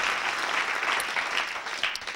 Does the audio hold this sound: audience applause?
yes